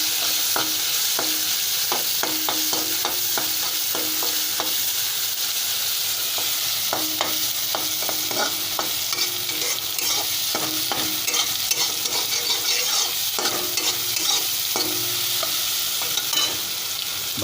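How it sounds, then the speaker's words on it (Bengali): Mushrooms fry in mustard oil with whole cumin, a steady close sizzle punctuated by repeated rhythmic scrapes and taps of a spoon stirring the pan, continuing evenly with no talk. "দিয়ে এতে মাশরুমটাকে ভেজে নেবো"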